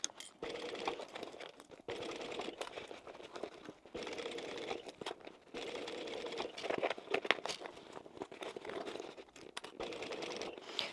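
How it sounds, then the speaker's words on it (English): A sewing machine runs in steady bursts of stitching while seaming a small flap bag at a narrow 6mm allowance, with brief pauses between runs and faint rustling of fabric. "Now we're going to sew this at a generous 6mm."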